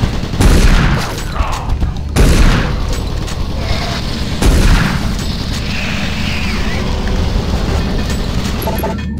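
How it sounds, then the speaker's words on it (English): Automated turret guns fire in Doom 3, loud booming bursts at the start and near two and four and a half seconds over a continuous mechanical clatter and rumble. "Warning, automated turret guns online."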